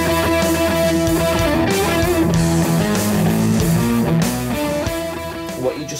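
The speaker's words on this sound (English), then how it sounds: "What you just heard there was the triple rotary, which is based on the Yamaha RA-200 rotating speaker." Line 6 Helix triple rotary effect, modelled on a Yamaha RA-200 rotating speaker, swirling over a sustained chord and note passage; loud, dense and continuous with a warbling, pulsing shimmer and no speech.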